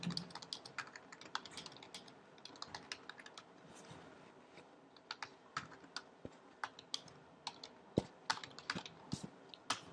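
Fingers typing a label into a survey form on a computer keyboard: steady, soft clicking keystrokes with occasional louder taps, close and quiet, running for the whole stretch without any talk.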